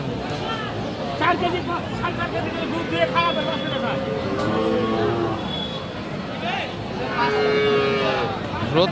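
A cow moos repeatedly, long low calls rising and falling, amid steady crowd chatter and background voices at a busy cattle market in Aftabganj, Dinajpur.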